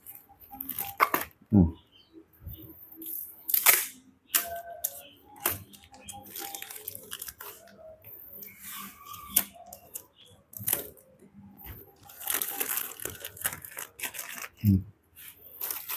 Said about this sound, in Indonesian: Saya akan lakban.